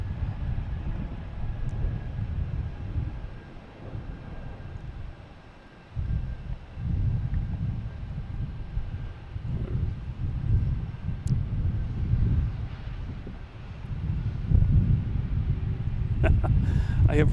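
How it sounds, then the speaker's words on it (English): A JetBlue airliner arriving at Boston's Logan Airport from Fort Myers on a rainy day gives a steady, deep rumble that swells toward the end, mixed with gusty wind buffeting. "We have JetBlue coming in from Fort Myers."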